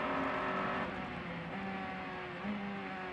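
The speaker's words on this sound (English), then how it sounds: "Down a couple of gears on the brakes, and then just feeds the power beautifully through." An Audi R8 race car at the 2003 American Le Mans Series Petit Le Mans drops a couple of gears under braking, its engine note stepping down before climbing steadily again as power comes back on, loud and continuous.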